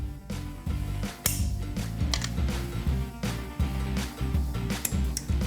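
A torque wrench clicks while lug nuts are tightened on a 1971 Dodge Challenger, sharp repeated ratchet clicks over a busy mechanical background, fairly close and steady throughout.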